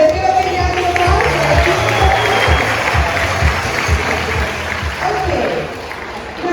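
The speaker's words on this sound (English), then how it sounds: "let's give a big round of applause." An audience at a bird show at Dubai Safari Park claps in a broad, rhythmic round of applause, dense and fairly close, tapering off toward the end.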